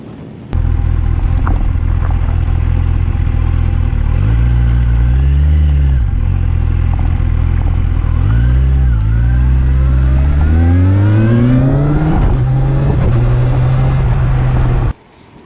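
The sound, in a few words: Kawasaki Ninja 1000SX motorcycle engine accelerating while riding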